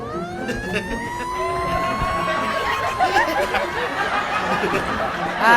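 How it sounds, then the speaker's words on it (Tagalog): An emergency vehicle siren sounds on request, a loud wailing tone sweeping up and down continuously over engine and street noise, close to the listener. "pwedeng papindot ng sirena"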